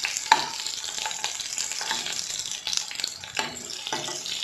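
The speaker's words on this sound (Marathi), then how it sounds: "आपण त्यामध्ये ह्या अळूवड्या ज्या आहेत त्या थोड्याशा परतवून घेतो आहे." Colocasia leaf rolls (alu vadi) shallow-frying in oil in a pan, a dense close hiss and sizzle broken by a few scraping turns of a spatula, with no talk.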